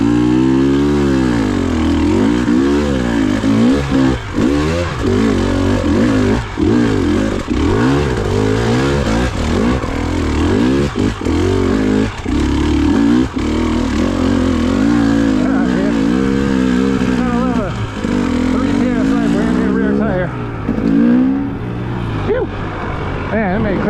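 KTM 300 TPI two-stroke dirt bike climbing a hill on forest trails, engine loud and close throughout with revving surges and shifting pitch as it pulls upward.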